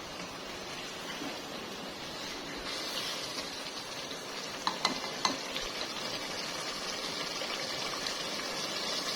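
Mutton with yogurt and spices fries in a pan, giving a steady, close sizzle with a few sharp stirring clinks near the middle and no voices.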